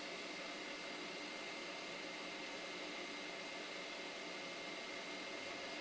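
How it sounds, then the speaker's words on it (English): A hot air gun blows onto a green LED on a rare developer DS Lite at a soldering bench, alongside a fume extractor, giving a steady broadband rushing hiss that stays constant throughout, with no talking. "We'll grab our hot air gun, blow it right on this green LED here."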